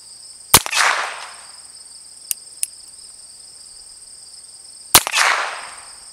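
Two sharp gunshots about four seconds apart at an outdoor shooting range, each a loud crack with a decaying echo, over a constant high chirping of crickets with a couple of faint clicks between.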